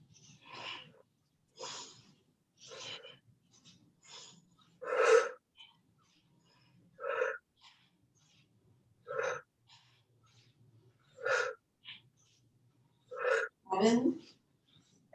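Breathing during a chair yoga session, heard as a series of sharp, airy breaths and gasps at roughly regular intervals, fairly close and quiet, separated by near silence.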